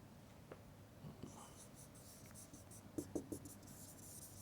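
Faint pen strokes scratch across a writing surface in short bursts as a grammar question is written out, with a steady low hum behind them.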